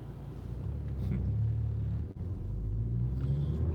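A car being driven, its engine giving a steady, low rumble throughout with a brief dip partway, heard from inside the vehicle with no talking.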